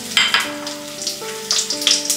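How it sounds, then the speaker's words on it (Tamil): Ginger, garlic, dried red chilli and chana dal fry in about two spoons of oil in a kadai, giving a steady close sizzle with small crackles and a few metallic tonal rings from the pan. "கடாயை வச்சுக்கோங்க, 2 ஸ்பூன் ஆயில் விட்டுக்கோங்க, இஞ்சி வெள்ளைப்பூடு போட்டுக்கோங்க, வத்தல்,"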